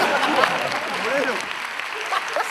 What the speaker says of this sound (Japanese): そのところめちゃくちゃ拍手してる